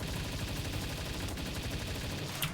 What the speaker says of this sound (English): I have to specifically shoot the human from the front.